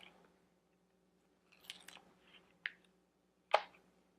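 A knife or scissors cuts alongside the thick stem of a collard green leaf for a wrap. A few crisp, quiet snips and slices come at irregular intervals with no talking.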